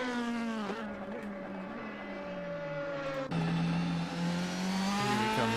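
A DTM race car from a sim racing game on a hot lap at Silverstone, its engine a loud, continuous high-pitched drone with the pitch sliding up and down through gear changes, alone with no talk.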